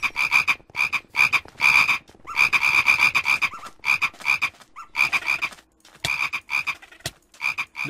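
Croaking frogs in the Crazy Craft modpack for Minecraft, close and loud, with steady rhythmic croak bursts repeating through the whole stretch with only short gaps.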